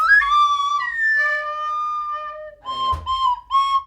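A beige plastic recorder plays a few breathy, piping notes: a long held tone, then a short pause and several quicker tongued notes, close and clear.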